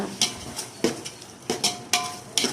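Homemade curd being stirred into a prawn biryani mixture, with a spoon scraping and clinking against the pot in about six distinct strokes spaced roughly half a second apart.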